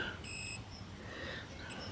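A single high electronic beep rings briefly near the start over a noisy, rustling background, followed by faint fainter tones.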